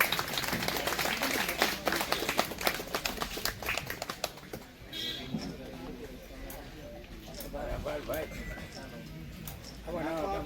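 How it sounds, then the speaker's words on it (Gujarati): Dense clapping from a crowd at a bhajan and kirtan gathering fills the first few seconds, then fades as voices and a loudspeaker-style announcement continue over a busy background. "બધે તાળીઓના ગડગડાટથી વધાવી લઈએ"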